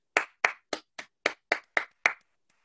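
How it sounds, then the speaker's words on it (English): Eight sharp, evenly spaced hand claps over about two seconds, close and dry with no crowd behind them, given as applause for a student joining a school talk show from home. "give Peyton a round of applause."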